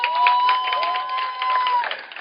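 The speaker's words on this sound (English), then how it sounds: "Clap for them." An audience at a talk on dating and marriage claps for the married people among them, a muffled, sustained patter of applause with a steady tone running underneath.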